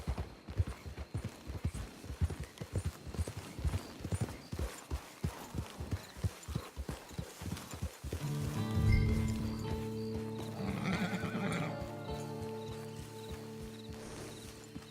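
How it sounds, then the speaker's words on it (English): Horse hooves clip-clop at a steady walking pace on a trail in the video game Red Dead Redemption 2, a close rhythmic patter that gives way to sustained music and ambient tones partway through. "It's your horse."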